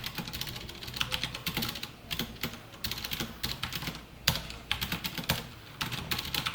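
Rapid, steady typing on a computer keyboard while writing Python code, close and continuous with uneven key clicks and no talk.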